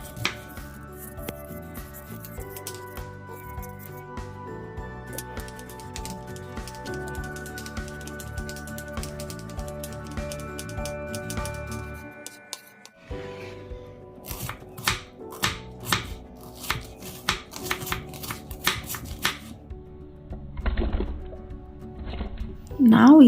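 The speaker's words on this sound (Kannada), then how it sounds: "ನಾವು ಈ ಥರ ದಪ್ಪ ಪೀಸಾಗಿ ಈರುಳ್ಳಿ ಕಟ್ ಮಾಡ್ಕೋಬೇಕು" A knife chops onion, chilli and garlic on a board, cutting through thick pieces for a radish chutney. Sharp, close strokes come in a rapid rhythm over the second half, after a stretch of steady tonal background.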